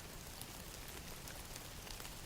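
Steady rain falls outdoors as an even, dense hiss of countless drops on surfaces, quiet and continuous, with no voices or other sounds.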